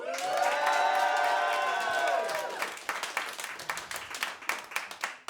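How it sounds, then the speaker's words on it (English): Audience at a comedy contest night claps and cheers. Loud whoops and shouts come first, then thinning, uneven clapping carries on to the end. "please clap and cheer now"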